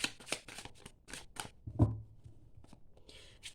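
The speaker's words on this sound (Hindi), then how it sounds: "जब तक मैं ये शफल कर रही हूँ" A deck of cards being shuffled by hand, with repeated riffling bursts and a thump near the middle, loud and close, with no voice over it.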